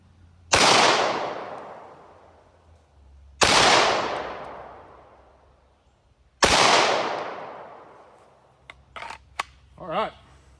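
Three loud, sharp gunshots from a Canik Mete 9mm handgun fired outdoors, spaced about three seconds apart, each ringing out with a long decaying echo, followed by a few faint clicks and a brief voice.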